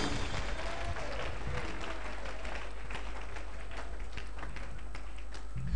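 A church congregation claps for the Lord during a live prophetic ministry service, a dense steady wash of hands over low rumbling room noise and a faint voice, holding evenly through the clip.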